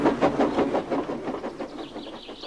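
Rhythmic rumbling chugs pulse quickly at first, then soften and fade as a hiss rises, like a train rushing past and moving away.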